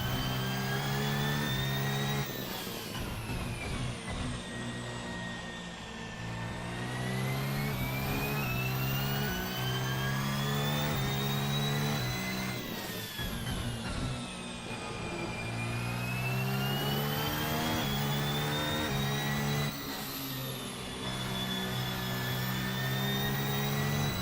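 A RaceSim Studio Formula Hybrid 2017 car in a racing sim revs up and down through the gears, its high whining engine note rising and falling repeatedly, loud and steady for over twenty seconds.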